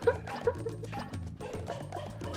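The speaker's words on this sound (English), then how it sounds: "Katamari animal barking rendition?" Playful dog yips and barks arranged as a musical rendition of Katamari video game music, bouncy pitched bow-wows in quick rhythm over a bass-heavy backing.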